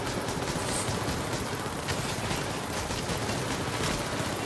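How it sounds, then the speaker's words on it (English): Turrets in The Division video game fire continuously in a dense, loud, unbroken stream of rapid gunfire that sounds like a steady roar for several seconds, with no talk over it. "Yeah, these turrets doing work,"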